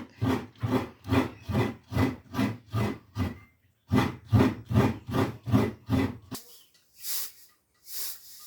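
Fresh coconut being grated by hand with a wooden grater, a steady run of loud rhythmic rasping strokes with a short pause midway, followed by fainter scraping and clinking.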